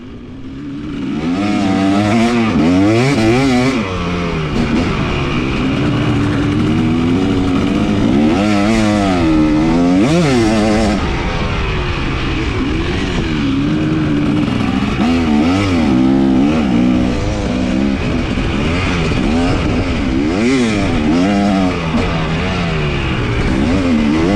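A pit bike circles a track for laps, its small engine buzzing loud and close, rising and falling repeatedly as it revs through corners and straights, with no talking.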